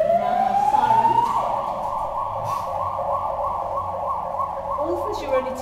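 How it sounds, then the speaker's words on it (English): Emergency vehicle siren wailing steadily and loudly, rising at first and then cycling in a regular rapid warble, heard alone with no talk over it. "we now have sirens"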